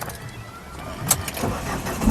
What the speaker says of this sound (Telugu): సింగిల్ సెల్ఫ్లో కార్ స్టార్ట్ అవుతుంది ఎటువంటి స్టార్టింగ్ ట్రబుల్ అయితే లేదు